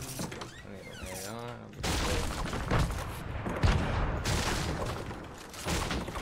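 Grenade blasts in Fortnite burst as dense, crackling booms with scattered sharp impacts, continuing under players' voice chat.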